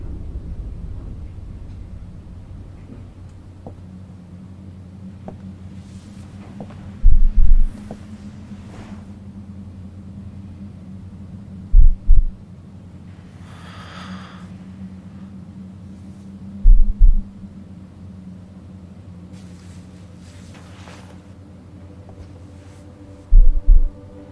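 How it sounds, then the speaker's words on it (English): Heartbeat effect in a country-pop song, deep paired thumps returning every few seconds over a low sustained hum, loud and close. "That heartbeat is so cool."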